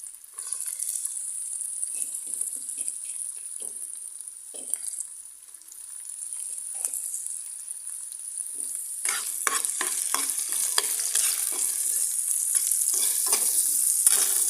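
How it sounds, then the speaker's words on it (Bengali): Chopped onion and chili sizzle steadily in a frying pan while being cooked for homemade flour noodles, with repeated scraping stir strokes that grow busier and louder toward the end, heard alone without talk. "তারপর দিয়ে দিব পেঁয়াজ কুচি"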